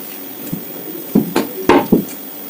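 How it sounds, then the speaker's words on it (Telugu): Cooking oil poured into a well-heated pan, with a handful of distinct clanks and knocks of metal and utensils against the pan, close and fairly loud, with no sustained sizzle. "చూడండి ఫ్రెండ్స్, బాగా హీట్ అయింది కదా, ఆయిల్ పోసేసుకుందాం"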